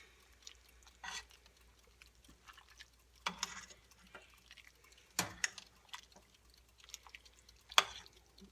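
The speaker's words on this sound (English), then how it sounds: "And then you stir it up." A spoon stirs pinto beans and barbecue sauce in a pot, making faint, scattered wet clicks and soft squelches at an irregular rhythm over near silence.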